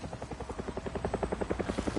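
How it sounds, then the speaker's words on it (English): A helicopter approaches in the video game Avatar Frontiers of Pandora on PS5, its rotor pulsing in fast, even thumps that grow louder and closer, with a buzzing engine drone underneath. "Another helicopter incoming."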